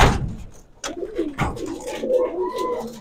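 Giribaj pigeons coo inside a loft, several soft throaty coos in close succession with rustling and brief wing or body movements between them.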